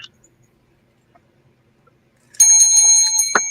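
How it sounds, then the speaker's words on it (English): A shot bell is rung once, loud and close. A bright metallic ring sustains with clear overtones and then begins to decay, after a near-silent stretch broken only by faint ticks. "Make me break out the shot bell."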